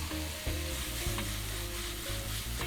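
Beef liver frying in a pan with black pepper, a steady sizzle with occasional stirring knocks against the pan, close and continuous, with no talking.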